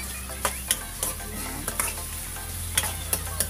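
Duck pieces sauté in a hot pan for kaldereta, a close, loud sizzle broken by several sharp clinks and scrapes of a utensil stirring, with no talking.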